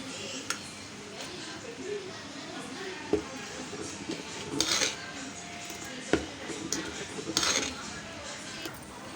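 Fermented ragi dosa batter being stirred in a metal vessel, with soft scraping and intermittent clinks and knocks of a utensil against the pot, steady and close, with a voice talking over it.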